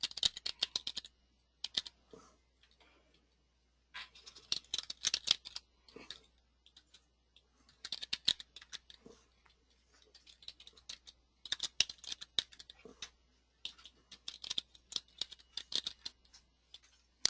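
Typing on a computer keyboard in bursts of quick, close, crisp key clicks separated by short pauses, steady and quiet with no talking.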